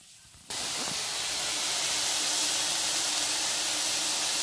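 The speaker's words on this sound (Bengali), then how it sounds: "তো বন্ধুরা দেখো শাকটা ভাজা হচ্ছে" Leafy greens with onion and green chili frying in a wok make a loud, steady hiss that bursts in after a short quiet start and holds evenly throughout.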